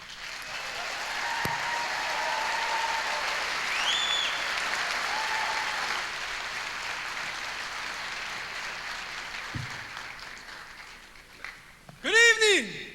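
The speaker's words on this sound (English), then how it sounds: "Please give a round of applause for tonight's host" Sustained audience applause fills the hall at the Native American Music Awards as the evening's host is welcomed, steady and fairly loud for several seconds before a brief, louder burst near the end.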